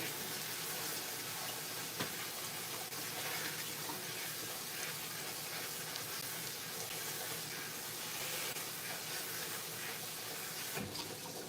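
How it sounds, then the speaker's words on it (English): Tap water runs steadily into a sink while leeks are rinsed clean, a constant hissing flow with occasional faint knocks, close by and without talk. "Rinsing out those leeks, want to make sure there's absolutely no dirt left on them."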